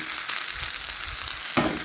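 Lion cut pork chops seasoned with salt, pepper and garlic fry in a sauté pan over a medium flame, giving a steady close sizzle and crackle throughout that brightens and surges near the end.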